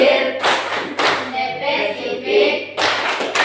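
A class of junior high school students claps a rhythmic chant together, sharp group hand claps landing in a patterned beat, loud and close, with voices chanting along between the claps.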